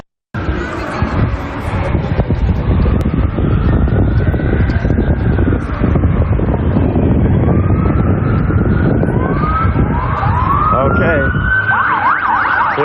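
Wailing emergency vehicle sirens rise and fall continuously over loud road and engine noise while driving toward the Capitol, growing more prominent toward the end, with faint voices underneath.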